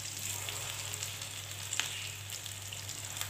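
Potato kebabs fry in oil over a low-to-medium flame with a soft, steady sizzle and occasional small crackles, fairly quiet and close, over a constant low hum.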